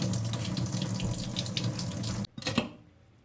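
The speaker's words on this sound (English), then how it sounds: "set this pot down into the sink and fill it up with water" Water running from a tap into a kitchen sink, a steady rushing stream that shuts off abruptly near the end, followed by a few brief drips and clatter.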